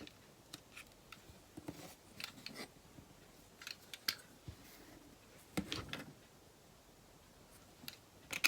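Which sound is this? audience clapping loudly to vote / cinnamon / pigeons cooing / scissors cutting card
scissors cutting card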